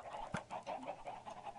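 Minecraft chickens cluck in short, repeated bursts inside a redstone auto-chicken farm, a busy overlapping flock heard at moderate volume with no talking.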